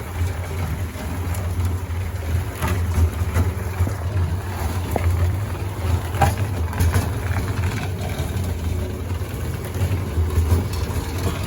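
Homemade concrete mixer built from an old oil barrel, turning steadily with a low continuous rumble and a slight rattling clatter, close and loud throughout with no talking.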